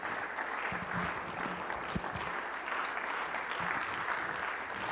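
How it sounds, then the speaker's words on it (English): Audience applause in a church at a Celebrate Recovery Sunday service, a steady dense wash of many hands clapping that holds loud and even throughout without talk. "So let's give him a round of applause."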